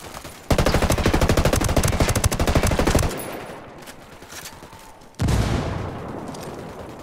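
Heavy automatic gunfire from a Ghost Recon Wildlands firefight against La Unidad: a loud, rapid burst lasting a few seconds, then a quieter rumble and a second loud blast-like burst near the end.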